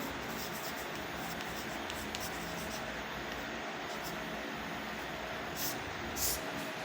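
Chalk or marker scratches and taps across a classroom board during a chemistry lesson, soft continuous strokes close by over a steady background hum, with no speech.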